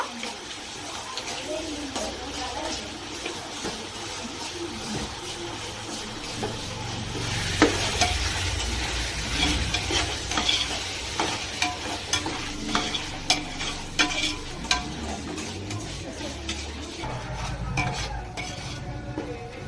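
Vegetables frying in a pan at home, seasoned with salt and stirred steadily, with a continuous sizzle, a constant wash of scraping, and occasional utensil clinks close up.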